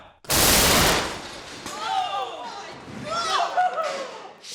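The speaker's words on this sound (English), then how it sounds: "The cannon launched the hook all right. It also launched itself clean off the table." A loud, sharp blast as a cannon launches a punch up close, then a clatter and thump as the cannon tumbles off a table, followed by excited voices talking and exclaiming.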